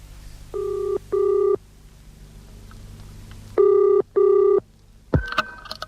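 An old-style telephone bell rings in a British radio drama, two double rings, a pause, then two more, loud and clear over a quiet room, before a receiver is picked up with a clatter.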